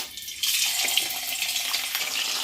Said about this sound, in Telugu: ఇప్పుడు స్లో మీడియంలో చేప ముక్కలన్నీ వేసానండి. డీప్ ఫ్రై అవుతుంది.